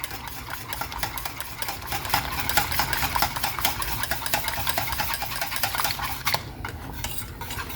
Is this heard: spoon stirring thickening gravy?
yes